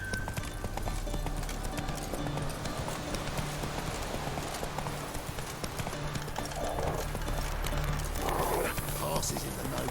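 Horse galloping in the video game The Witcher 3, with steady clip-clop hoofbeats running under music and continuous game sound while a voice speaks over it.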